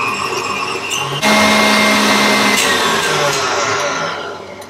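An electric mixer creams unsalted butter into a pumpkin cookie mixture, starting abruptly with a loud, steady whirring drone that tapers off slightly toward the end.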